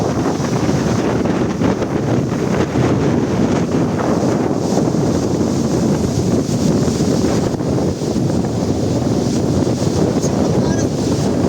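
Strong wind gusts roar against the microphone over crashing sea waves of four to five feet, a constant loud, buffeting rush with no letup.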